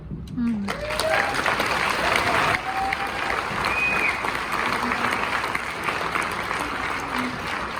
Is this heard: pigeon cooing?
no